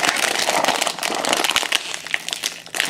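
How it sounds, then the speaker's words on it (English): Plastic wrapping crinkles as a Magic: The Gathering Dragon's Maze intro pack deck box is opened, a close, continuous crackling rustle with a few sharper snaps, no talking. "I'm going to open up the deck box that I mentioned earlier."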